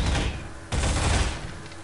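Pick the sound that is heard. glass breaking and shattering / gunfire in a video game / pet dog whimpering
gunfire in a video game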